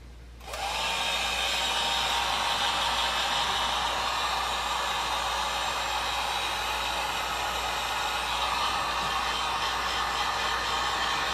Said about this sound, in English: put the heat gun on, and then I let it heat up for a couple of seconds or so.